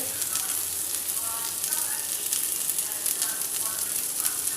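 Curry leaves and shallots sautéing in oil in a pan for tomato sambar, a steady soft sizzle and crackle with occasional stirring, moderately quiet and continuous.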